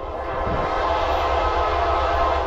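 A Norfolk Southern freight train rumbles past up close at South Plainfield, New Jersey, a loud continuous roar of wheels and cars with a steady heavy drone throughout.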